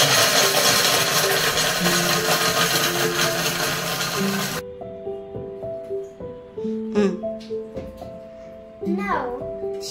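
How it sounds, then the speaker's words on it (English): Oreo cookies being ground to powder in a kitchen grinder on slow speed, a loud whirring buzz that cuts off midway, followed by quieter handling noises and a voice talking. "Now keep the grinder in slow."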